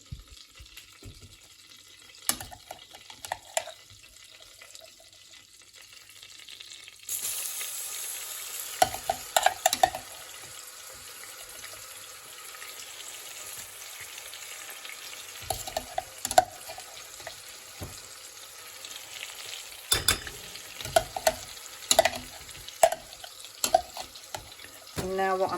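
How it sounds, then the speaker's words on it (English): Onion and garlic fry with cumin in a pan, a soft sizzle that grows after they go in, punctuated by clattering stirs and utensil knocks, with occasional talk. "So the cumin is bubbling away in here, and I'm just going to add the onion and the blitzed garlic."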